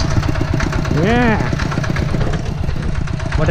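A steady, close tractor engine runs with a low chugging throb throughout, mixed with background clatter and a brief rising whistle-like tone partway through.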